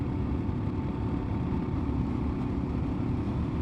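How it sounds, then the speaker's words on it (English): A KLR650 motorcycle at about 100 km/h gives a constant, loud, close drone of tyre and road noise with wind rush, steady throughout with no talking. "Man, that high-pitched tyre whine is really pronounced now."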